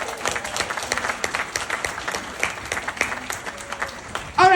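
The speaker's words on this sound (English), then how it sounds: "let me hear a round of applause for our Democratic nominee for the Allegheny County Court of Common Pleas, Patrick Sweeney." An audience applauds a Democratic nominee for the Allegheny County Court of Common Pleas, with steady mid-level clapping throughout and a sharp loud burst near the end.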